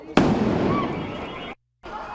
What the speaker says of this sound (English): just heard a loud explosion